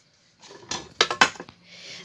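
Granite marble-coated frying pans are handled and knocked together, giving a few close, sharp clanks and light scraping taps in quick succession.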